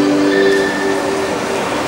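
A Koleje Śląskie S3 passenger train pulls into a station platform, a steady close rumble of rail cars with faint high squealing tones, continuous and loud with no talk.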